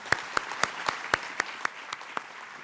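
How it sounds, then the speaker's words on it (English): Sparse, evenly spaced audience claps at a forum ringing out one by one over a soft hall background, fading toward the end. "Let's give them a round of applause."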